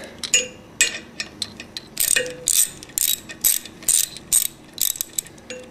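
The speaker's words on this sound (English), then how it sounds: "You just take your 10 millimeter Allen ratchet again, tighten it up." A 10 mm Allen ratchet tightening socket head cap screws on top of a separator cartridge, a close, loud run of sharp ratchet clicks in quick bursts with short pauses between strokes, no talking.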